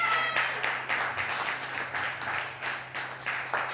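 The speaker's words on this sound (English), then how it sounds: "Clap it up." An audience claps at a live show, a fairly loud, uneven patter that comes in pulsing waves over a low steady hum, with no voices over it.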